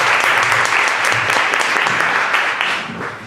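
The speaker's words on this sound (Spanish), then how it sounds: "Un aplauso." Audience applause at an academic linguistics conference panel, a few seconds of steady, dense clapping from a seated crowd that begins to thin toward the end.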